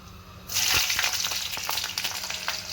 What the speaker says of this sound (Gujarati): લગભગ 8 થી 10 લસણની કળી નાખીશું આપણે.